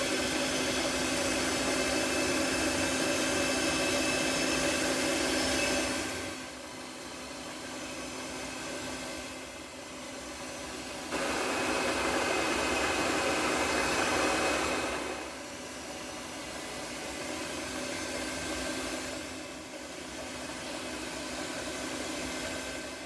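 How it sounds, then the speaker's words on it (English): An electric mixer beats butter cake batter, a steady whirring drone that drops lower and rises again several times as it works, running alone without speech. "And now I will turn off the mixer."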